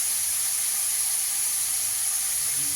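Chicken pieces rubbed with salt and lemon juice fry in a pan, giving a steady, even sizzling hiss that carries on alone without any talk.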